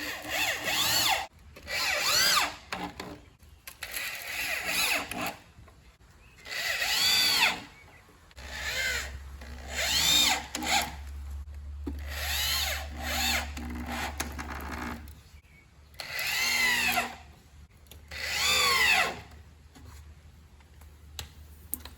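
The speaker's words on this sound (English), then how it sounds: "just screw it in place with a bunch of screws" A power drill drives 1-inch drywall screws into plywood while a mortar rack is assembled, giving repeated close whirring bursts of a few seconds each, separated by quieter handling and scraping sounds.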